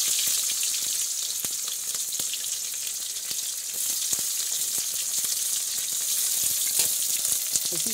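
Green chillies hit hot oil in a pan and fry with a steady, loud hiss and crackle, punctuated by small spitting pops throughout.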